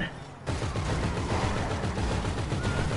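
Rapid overlapping automatic gunfire from a shootout in GTA V, a dense, loud, continuous rattle of many weapons that starts abruptly after a brief quieter moment and keeps going without a break.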